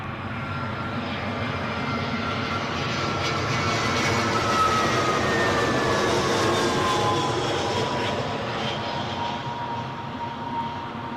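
A jet aircraft landing at London Heathrow roars loudly and continuously, swelling as it passes nearby and then easing slightly, with no speech over the engine noise.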